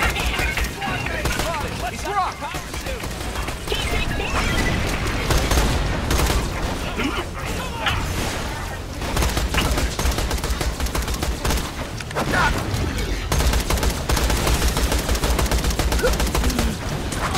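Borderlands The Pre-Sequel gameplay with dense rapid gunfire bursts and a grenade explosion, loud and continuous throughout, with someone talking intermittently over the combat.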